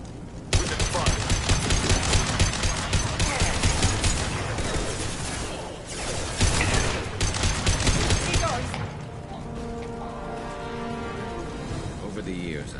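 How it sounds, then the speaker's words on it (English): Dense, rapid automatic gunfire crackles nonstop through a Mass Effect 2 firefight with Blue Suns mercenaries for about eight seconds, then eases into quieter game ambience with a faint tonal hum. "The Blue Suns and Borgia shooting anything that moves."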